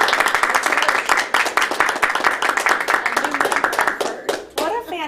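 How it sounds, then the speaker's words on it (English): Applause from the audience at a Toastmasters club meeting, a dense patter of clapping hands that keeps going for several seconds and tapers off near the end. "let's give a round of applause to our wonderful Toastmaster for today"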